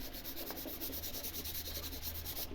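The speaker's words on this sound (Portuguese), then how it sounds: "Eu dei uma demão de lixa bem de leve, porque se você lixar um pouco mais forte vai ficar todo riscado" 220-grit sandpaper rubs lightly over dyed wooden pieces in quick, even back-and-forth strokes, a soft, steady scratchy hiss close by with no talking.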